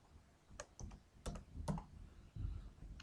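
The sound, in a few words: typing on a computer keyboard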